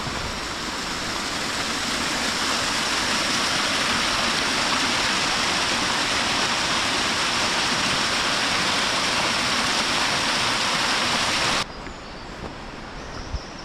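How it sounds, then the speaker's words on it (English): Loud, steady rush of falling water along the Steall Waterfall walk in Glen Nevis, Scotland, a dense continuous roar close by that drops away abruptly near the end. "of hearing water everywhere now, which is brilliant"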